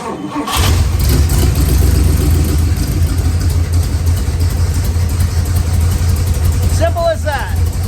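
A car engine cranks and catches with a loud burst, then settles into a steady, close rumbling idle that fills the rest of the stretch, with a brief squeak near the end.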